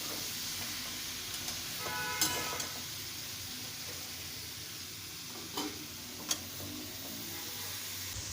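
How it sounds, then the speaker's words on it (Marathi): Grated radish and peas sauté in a pan with a low, steady sizzle, broken by a few faint spoon scrapes and taps against the pan. "मी आता दोन मिनिट छान असे परतवून घ्यायचे आहे"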